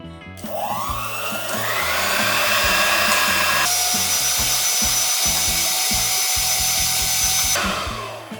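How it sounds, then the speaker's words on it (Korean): An electric mixer whips egg yolks with sugar at high speed, whirring loudly and steadily with a whine that rises as it spins up. A second, higher-pitched stretch follows before it winds down, with no talking. "우선은 노른자에 설탕을 넣고 2분 정도 고속으로 휘핑을 해보도록 할게요."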